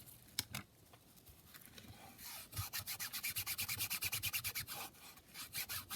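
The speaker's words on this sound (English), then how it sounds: "So we just glue here and here. Hope I'm in frame like that. Okay, glue that down." Paper being rubbed down by hand onto glue while making a junk journal, a long run of quick rhythmic scratchy strokes, close and steady, with a few scattered taps beforehand and nobody speaking.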